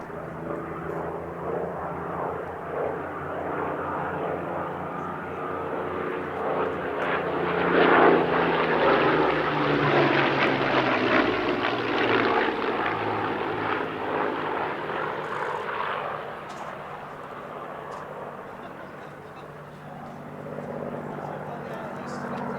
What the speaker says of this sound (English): It's flying with Hurricane Mark 2C PZ865, although it's painted to represent a night fighter Hurricane